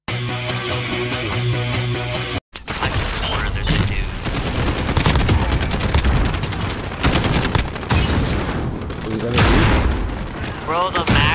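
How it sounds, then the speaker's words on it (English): Rapid bursts of automatic gunfire and booming shots crackle through a Modern Warfare match, loud and dense, with players talking excitedly over the shooting. "I just started getting shot at randomly"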